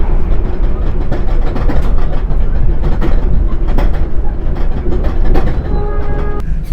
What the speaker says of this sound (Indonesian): ada suara-suara yang kayak apa ya, besi ya, kayak besi-besi gitu yang ada di bawah keretanya